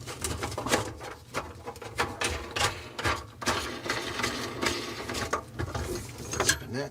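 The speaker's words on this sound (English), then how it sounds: "I'm going to use pliers to break those free." Pliers work a sink sprayer nut loose under a kitchen faucet, giving a busy run of close metallic clicks, scrapes and ratcheting turns with small knocks in between.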